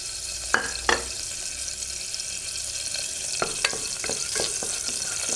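Garlic cloves frying in a pot of oil for a dried bean stew, giving a steady close sizzle with a few sharp crackles and pops scattered through it.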